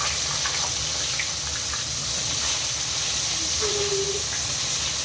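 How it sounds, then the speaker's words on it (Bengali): Cauliflower fries in hot oil ahead of a fish curry, producing a constant close hiss and soft sizzle with faint bubbling, no voices over it. "ফুলকপিটা লাল করে ভেজে নেবো আগে মাছের ঝোলের জন্য।"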